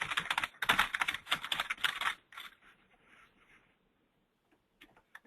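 Quick bursts of typing on a computer keyboard, a close, busy clatter of keystrokes for about two seconds, then a few scattered soft taps fading into near silence.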